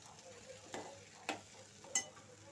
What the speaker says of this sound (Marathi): आता इथे झाकण मी काढणार आहे आणि ढवळून घ्यायचं आहे पुन्हा एकदा